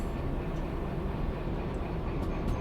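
In the train game Derail Valley, a long train cruises along the track toward a machine factory, giving a steady low rumble that stays even throughout with no talk.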